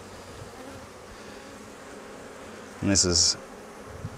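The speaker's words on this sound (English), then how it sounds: "If we move these bees, I just touch them to move them." Honey bees buzz steadily on a hive frame during a vertical Flow Hive split, a continuous low hum up close while someone talks briefly.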